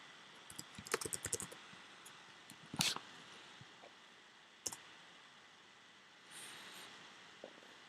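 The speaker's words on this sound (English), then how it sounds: "I'm just going to type a message, which you can hear." Bursts of clicking keystrokes on a computer keyboard as a message is typed, a quick rapid cluster followed by scattered single clicks and pauses, close and fairly quiet with no talking.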